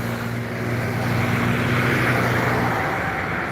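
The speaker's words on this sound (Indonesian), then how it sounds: "Ada satu truk tronton Simba Surya." A Simba Surya tronton truck rolls past on the Jalan Lintas Timur highway, a steady heavy engine drone with a low tonal hum and broadband road roar that holds loud for a few seconds, then eases slightly.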